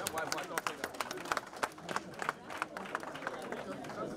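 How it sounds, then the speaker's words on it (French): An audience at a diaspora youth gathering applauds, with dense, uneven clapping and scattered murmuring voices throughout, heard at moderate distance. "j'aimerais que nous applaudissions pour nous-mêmes"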